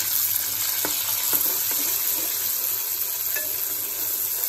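Chopped tomatoes go into a frying pan with garlic and sizzle loudly and steadily, a constant hissing fry with a few light stirring knocks, close up and with no talking.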